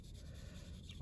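A pencil shades across paper in a soft, steady scratching that stays faint and close, with no talk.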